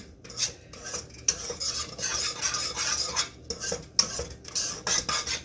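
A spoon stirring shrimp and grits with melted cheese in a pot, scraping against the metal in steady repeated strokes with soft thick sloshing, close and fairly quiet, with no voices.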